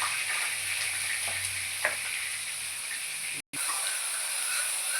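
Onions fry in a pan as they are stirred until browned, making a steady close sizzle and hiss with a few soft scrapes and a brief cut-out midway, no voices.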